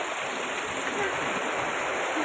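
Steady broadband wash of rainwater running across a flooded road during a rainstorm, continuous and fairly loud with no clear breaks, a faint voice present at moments beneath the water noise.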